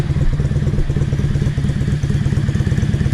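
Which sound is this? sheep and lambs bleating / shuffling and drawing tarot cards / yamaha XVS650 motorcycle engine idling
yamaha XVS650 motorcycle engine idling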